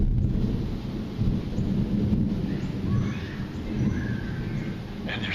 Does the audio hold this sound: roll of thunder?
yes